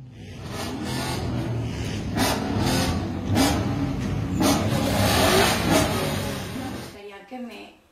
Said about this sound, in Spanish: Sus amigos, quienes también cuentan con una gran pasión por los autos, le brindaron un homenaje acelerando sus motores.